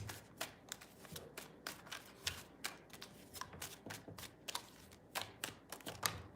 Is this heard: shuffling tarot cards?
yes